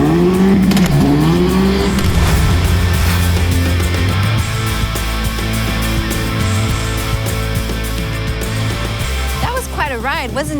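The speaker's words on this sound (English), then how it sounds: "we went through the tunnel and we got to hear the in-exhaust at its full potential" A Hyundai N car's exhaust roars loudly and continuously through a tunnel, revving and booming with echoing resonance, with voices talking over it near the start.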